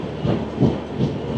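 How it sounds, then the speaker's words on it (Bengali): Garib Rath Express running on rails from Agartala in Tripura, a rhythmic clickety-clack of wheels over rail joints with rumbling carriage noise, heard close from on board. "মিনিট 7 দাঁড়ানোর পর ট্রেন আমাদের ছেড়ে দিল"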